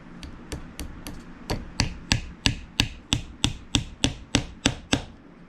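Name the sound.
hammer peening brass pins into a knife handle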